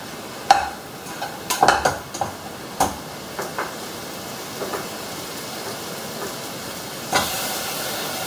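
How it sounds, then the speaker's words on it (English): Meat fries in a pan with a continuous hiss and sizzle, broken by a series of short clinks and scrapes in the first few seconds, then a louder burst of sizzle near the end. "just add a space there so you can fry your meat a little."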